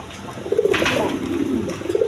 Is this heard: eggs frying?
no